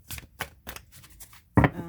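Tarot cards are shuffled by hand in several short, crisp riffling bursts with brief pauses between, followed by a louder flurry as a voice briefly cuts in at the end.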